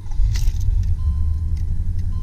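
A 1989 Chevrolet Caprice Classic station wagon engine rumbles low and steady close by, with a brief jingle of keys near the start.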